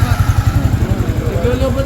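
A Yamaha Sniper 155 motorcycle engine runs close by with a rapid, pulsing low chug, loud and steady, while a person speaks over it.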